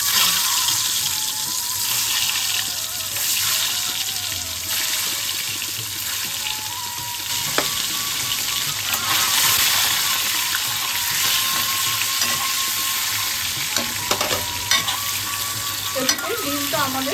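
Duck eggs sizzle steadily in hot oil in a wok, a continuous bright frying crackle with occasional sharper pops and faint stirring clinks, close and fairly loud throughout with no voices.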